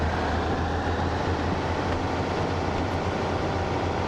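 A diesel train engine throttles up in the Train Sim World 6 video game on the Riviera Line, a steady loud rumble with constant broadband noise and a low engine drone throughout, no voices.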